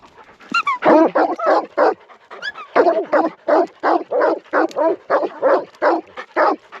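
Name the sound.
dog barking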